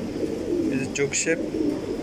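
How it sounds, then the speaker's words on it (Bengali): Racing pigeons coo at a pigeon farm, a steady low throaty murmur from several birds nearby, while someone speaks briefly over them and a few higher chirps break through. "ডাউন শেপের কবুতর, অনেক ভালো"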